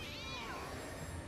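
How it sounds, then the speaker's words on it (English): A cat meows in a video game trailer, one drawn-out meow sweeping down in pitch, fairly clear over a low rumbling background. "Did that cat just take over that person?"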